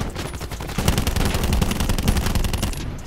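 Rapid automatic gunfire from a Black Ops 4 match sounds as a loud, continuous burst of closely spaced shots over about three seconds, close and dense, ending abruptly.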